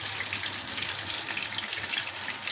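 Pitha (rice cakes) fry in a pan with a dense, continuous sizzle and crackle, close and fairly loud, with no one talking over it.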